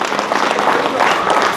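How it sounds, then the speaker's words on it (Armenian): A crowd at a family celebration claps for Grigor, a dense, steady burst of applause close by, with voices mixed in underneath. "մատ ծափեր տան Գրիգորի համար"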